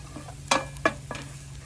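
Ginger and garlic fry in butter in a pan for a chicken bread roll filling, with a soft sizzle under three quick stirring scrapes close at hand.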